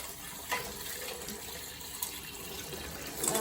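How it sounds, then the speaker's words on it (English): Cold tap water runs steadily while beef is rinsed in a sink, a continuous close splashing gush with a few brief louder splashes and no talk. "rinse with cold water"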